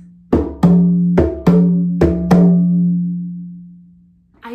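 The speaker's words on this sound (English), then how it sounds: "King Lion will be played by this drum called a tubano." Tubano drum hit six times in an uneven pattern, deep resonant booms that ring out and decay slowly, close and loud, with no voices.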